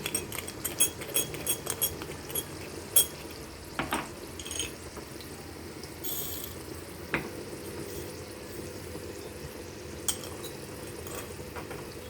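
Cumin and mustard seeds fry in hot oil for a Telugu tomato and okra chutney, giving a faint, steady sizzle dotted with small crackling pops.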